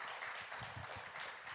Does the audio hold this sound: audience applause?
yes